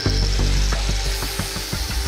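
Power saw cutting through the metal door hinge of a bought-at-auction ATM safe, a steady loud grinding rasp with rhythmic strokes throughout, no talking.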